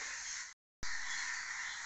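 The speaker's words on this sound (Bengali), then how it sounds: "কাকগুলো কিরম ডাকতেছে দেখো" Crows cawing at a distance over a steady hiss, with a brief dropout partway through.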